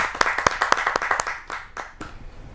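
A small audience at a Hindi poetry gathering claps to welcome a poet, a short flurry of distinct, close handclaps that quickly thins out to a few scattered claps.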